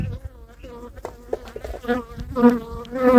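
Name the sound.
honey bees buzzing in an open hive during inspection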